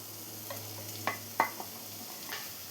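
Drumstick pods with turmeric powder fry quietly in a pan, a soft steady sizzle broken by two or three gentle spatula knocks and scrapes, with no voices.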